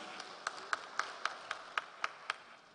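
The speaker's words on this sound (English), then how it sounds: "A big round of applause for Carl, please" A few hands clapping at a steady, slow rhythm at a morning conference session in Ghana, about nine sharp, evenly spaced claps, faint and somewhat distant with no voices over them.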